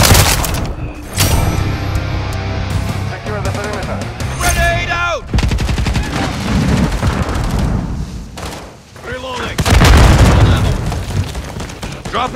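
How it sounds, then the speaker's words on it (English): Grenade blast and combat noise in Call of Duty: Modern Warfare III, with heavy booms and gunfire bursts layered under game voices throughout, peaking in loud explosive hits near the start and end. "Grenade out!"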